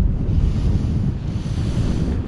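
Wind buffeting the microphone over choppy waves on a lake during October fishing, a continuous loud low rumble with steady water wash and no voices.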